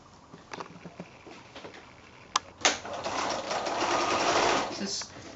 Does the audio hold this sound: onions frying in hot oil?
no